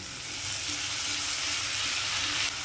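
Washed red lentils (masoor dal) go into a curry with raw papaya, and a steady broadband sizzle of frying fills the pan throughout, loud and close, with no talking.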